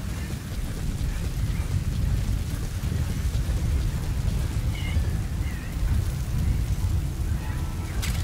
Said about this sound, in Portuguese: Vai começar uma tempestade de areia.